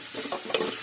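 Palak chicken gravy frying and being stirred in a pan, a steady close sizzle with brief scraping strokes of the spoon.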